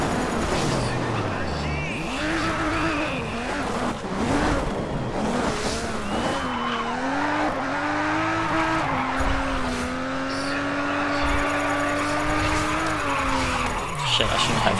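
A car in the racing video game Grid skids hard after a handbrake pull, with long loud tire squeals over a roaring engine, continuous throughout, while a player talks over it.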